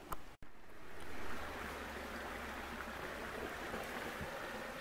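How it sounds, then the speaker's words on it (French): A small stream cascades over stones along a stony forest path, a steady broadband rush of flowing water close by, with a brief click at the start and no talking. "Un plus gros débit si on veut, disons que ça cascade un peu, donc c'est ce qui fait ce joli bruit là."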